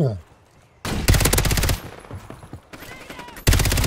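A decoy grenade in Call of Duty on Rebirth Island fakes gunfire with loud rapid bursts that stop and restart, and a short burst returns right at the end.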